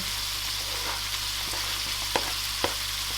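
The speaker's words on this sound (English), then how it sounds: "next I'll add in the onions, start those frying" Steady close sizzling of onions frying in a pan, with a few soft clicks and scrapes over a low hum.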